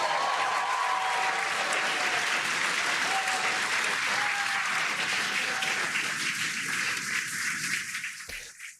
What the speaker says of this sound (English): explain who those people were that were clapping